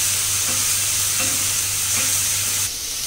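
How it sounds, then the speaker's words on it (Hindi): Onion paste frying in a pan for dum aloo, a steady loud sizzle with a constant hiss and low hum, faint stirring scrapes now and then, dropping slightly near the end. "अब हम ये प्याज का पेस्ट डाल देंगे और इसे 4 से 5 मिनट तक हम भूनेंगे।"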